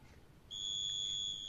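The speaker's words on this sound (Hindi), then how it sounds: "so as you can see that buzzer is ringing but very low voice is coming" A small electric buzzer in a circuit powered through ordinary water starts up after a quiet moment and holds a steady, thin, high-pitched tone, faint and unbroken to the end.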